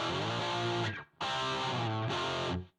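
An electric guitar run through the distortion effect of a Zoom R8 recorder plays two thick, sustained distorted chords with a short silent gap between them, loud and close with no talk.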